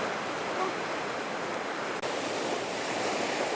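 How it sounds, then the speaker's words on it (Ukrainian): Cold sea waves wash onto a shore in winter, giving a steady, loud broadband roar of surf that stays constant throughout with only a brief dip, no voices. "Ось це хвилі, які холодні."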